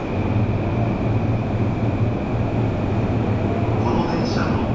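A Saikyo Line train runs at Osaki Station with a loud, steady rumble of wheels and motor, and a high tone rises briefly near the end.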